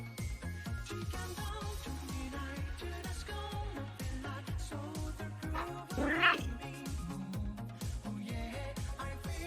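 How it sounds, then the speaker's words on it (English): A cat lets out a rising meow, with other caterwauling cries, over steady background music throughout. "Did you hear that one? She meowed."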